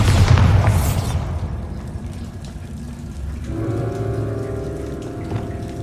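A Bombarda spell explodes in Hogwarts Legacy with a loud, booming burst at the start, then a rumbling, watery, crackling tail that fades into a steady lower hum.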